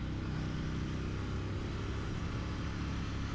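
Steady engine roar of a Royal Enfield Interceptor 650 motorcycle accelerating round a roundabout, a continuous rumbling drone heard from close by without any talking.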